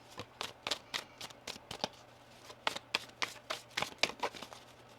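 Tarot cards being shuffled in quick riffling bursts, soft crisp flicks in uneven clusters, close and quiet over a faint low hum.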